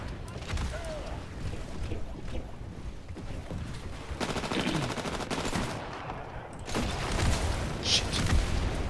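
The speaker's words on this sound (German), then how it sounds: "Hör sie überall schießen, aber ich sehe nicht einen." Enemy gunfire in the Titanfall video game, repeated bursts of automatic weapon shots and sharp cracks amid battle noise, with heavier rattling volleys toward the end.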